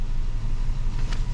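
A Toyota car engine idles in a steady, low rumble during a transmission fluid level check, heard close and alone for a brief moment.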